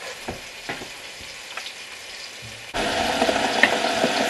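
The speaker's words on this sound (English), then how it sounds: "put in like a couple of biggish handfuls of onion in there, and I don't want it to go brown, I just want it to go soft" Onions sizzling gently in a pan, cooked soft rather than browned for pea and ham soup; a light crackle with a few stirring scrapes, then the frying grows louder and steadier partway through.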